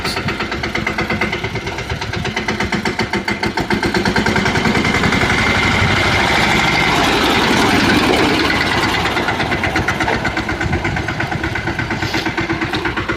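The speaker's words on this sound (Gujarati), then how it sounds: "બરાબર ટ્રેક્ટર આવી ગયો" A steady, chugging engine idles nearby with a rapid regular pulse, loud and continuous throughout with no talking.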